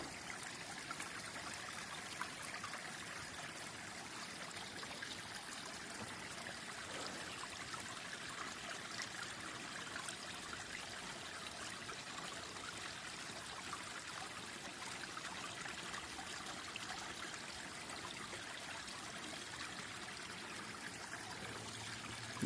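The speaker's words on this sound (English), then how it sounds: "Love the sound of the water flowing down." A mountain stream spills down over rocks beside a hiking trail, its steady rushing and trickling water continuous and fairly close throughout, with no voices.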